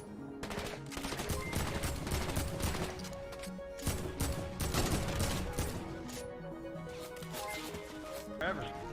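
Rapid gunfire in the video game Fortnite, with dense overlapping bursts of shots that run almost continuously, mixed with game effects and players talking over the action.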